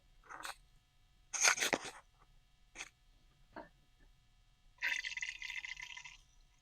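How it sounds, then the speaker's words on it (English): An MSI Coreliquid P360 AIO cooler pump running with air trapped inside gives short irregular gurgling and whooshing bursts, then a steadier hiss of churning coolant near the end, fairly quiet overall. "Let's find out what the pump sounds like."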